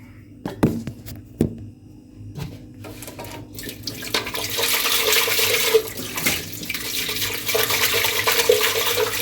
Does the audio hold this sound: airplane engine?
no